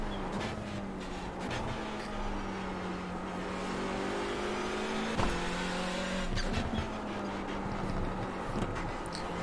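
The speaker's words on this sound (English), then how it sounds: "Both on onboard and offboard shots, this Hyundai sounds good." Hyundai race car in the iRacing simulator during an IMSA race at Okayama, its engine droning steadily and loud throughout with shifting pitch as it accelerates, alongside tire and track noise.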